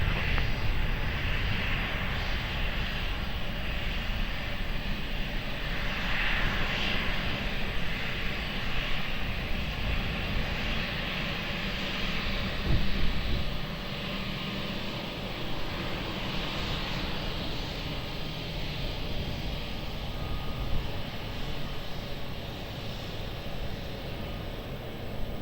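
A jet airliner at Lisbon Airport rolls for takeoff on runway 20, a steady broadband engine roar that stays loud and continuous throughout, with a faint swell midway and no talk over it.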